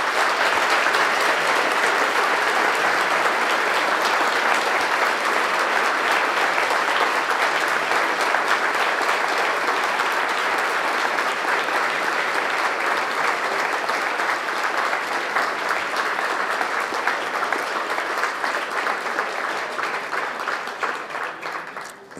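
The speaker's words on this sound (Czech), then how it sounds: "Prosím o potlesk." Sustained audience applause after a talk with brewer Stanislav Bernard, many hands clapping steadily and loudly for over twenty seconds before trailing off at the very end.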